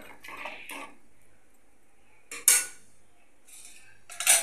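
A spoon stirring a pot of chickpea pani puri filling mixed with water, with several distinct metallic scrapes and clanks against the pot, separated by short quiet pauses and heard close up.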